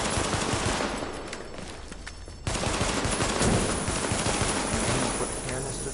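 Gunfire in The Division video game, dense bursts of automatic fire and scattered shots that cut out briefly then return louder, close and continuous, with game sounds behind.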